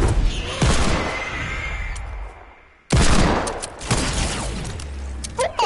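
Sniper rifle fire in Fortnite: two loud, sharp blasts with long echoing tails, the second after a brief near-silent gap, followed by a scatter of smaller cracks and clicks.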